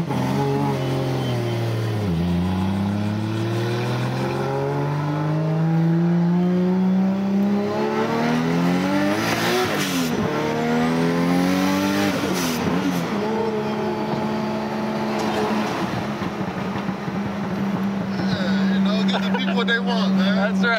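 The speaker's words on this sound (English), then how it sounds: "so we made you a full titanium slip fit 4-inch exhaust." A 650-horsepower Nissan Skyline GT-R R33 with a full titanium 4-inch slip-fit exhaust revs loudly and repeatedly, its engine note swooping up and down before settling into a steady drone, with voices under it.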